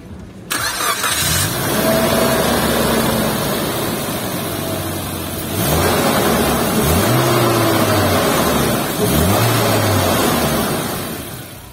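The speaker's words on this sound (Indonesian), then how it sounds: "Foot on the brake, yuk kita start up dulu." A Suzuki Jimny JB43 facelift with its M13A engine cranks and catches at close range, then settles into a steady idle, with two or three brief blips of revving partway through.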